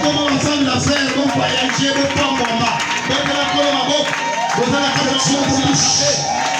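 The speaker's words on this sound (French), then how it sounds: "Applaudissons pour nous." A church congregation at a Sunday worship service applauds, a dense sustained wash of many hands clapping with cheers and voices mixed throughout.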